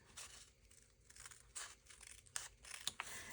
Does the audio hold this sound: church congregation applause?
no